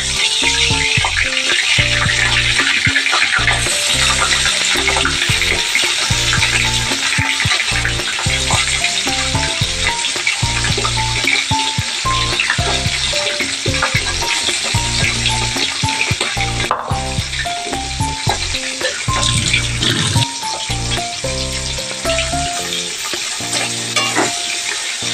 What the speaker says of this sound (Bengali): এবার আমি কই মাছটাকে তেলে দিচ্ছি।